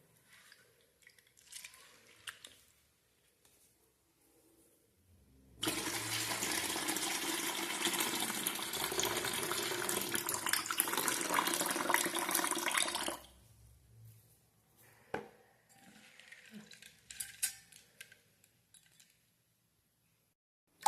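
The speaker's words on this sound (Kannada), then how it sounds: "ಈಗ ಪಾಲಕ್ ಕೊಯ್ದು ಇಟ್ಕೊಂಡಿವಿ ಇದನ್ನು ತೊಳೆದು ಹಾಕಬೇಕು" Water runs steadily from a tap for about seven seconds as cut spinach is washed, loud and continuous, with quieter handling splashes before and after.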